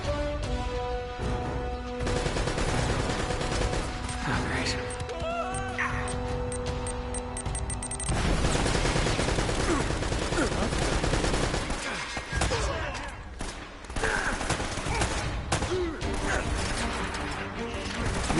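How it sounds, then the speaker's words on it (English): Gunfire from the video game Uncharted, a dense, loud run of shots and bursts with mechanical clatter throughout, heavier and more chaotic in the second half, set against game music. "Oh, let's shoot it."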